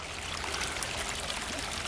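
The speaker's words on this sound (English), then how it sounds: "we have a river flowing here" Water gushes steadily into a flooded basement excavation near the footings, a continuous close, broadband rush like a small stream pouring in.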